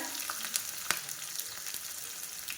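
Finely chopped garlic, green chili and chana dal frying in hot oil for a curd rice tempering, with a soft, continuous sizzle broken by occasional sharp pops and light stirring.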